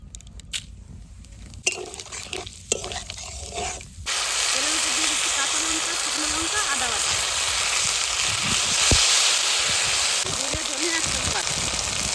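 Whole cumin seeds and a bay leaf hitting hot oil in a kadai, with light clatter and handling for a few seconds, then a loud, steady, close sizzle that keeps going to the end.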